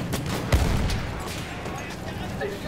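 Battlefield 1 video game gunfire, a heavy close blast followed by scattered rifle and machine-gun shots in the wartime battle din, with soldiers shouting throughout.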